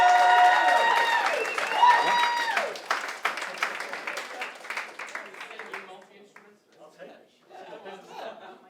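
A musical theatre audience applauds a multi-instrumentalist performer, the clapping present early while a presenter talks over it, then fading as speech and light laughter continue.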